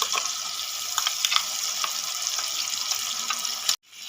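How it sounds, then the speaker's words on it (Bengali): Spices with hung curd sauté in a pan for a Bengali dahi begun, giving a dense, steady sizzle with scattered stirring clicks, close up, until it cuts off abruptly near the end. "আমি সবগুলো একসাথে ভালো করে কষিয়ে নেব একটু নেড়ে চেড়ে নিলাম"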